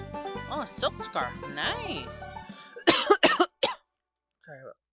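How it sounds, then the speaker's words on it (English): A person coughs harshly several times in quick bursts after talking, with music from the video game Pokemon Xenoverse playing, then the sound trails off into quiet. "I'm sorry about the coughing."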